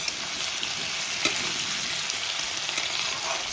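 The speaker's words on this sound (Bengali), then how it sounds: "আলুটা কড়াইতে দিয়ে দিলাম, নাড়াচাড়া করে দিচ্ছি।" Potatoes fry in hot oil in a kadai, a steady close sizzle with occasional soft scrapes and clicks as they are stirred, no voices over it.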